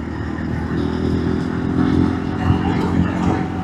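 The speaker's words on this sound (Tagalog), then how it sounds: "Nakakondisyon naman lagi itong motor natin." A motorcycle engine, likely a Yamaha NMAX scooter, runs steadily at close range with a low rumble that holds through the whole stretch. Faint talk sits beneath it.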